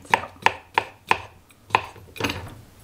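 A knife slices mini cucumbers on a cutting board, six crisp, evenly spaced chops close up, the last one softer and dragging, with no voices.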